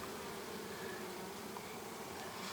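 Honeybees hum in a steady, dense outdoor drone near a rapeseed field, the buzzing continuous and fairly even throughout with no voices.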